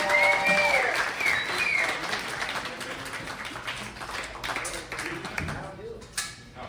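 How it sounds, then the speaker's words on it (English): An audience at an East Texas songwriter showcase awards event applauds a performer, a dense burst of clapping that swells at the start and tapers off, with speech mixed in over it. "So one more time, give a big round of applause for Daniel."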